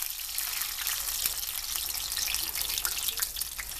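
Cheesecake egg roll frying in a pan, a steady bright hiss and crackle of hot oil that holds evenly throughout, close and fairly loud with no talking.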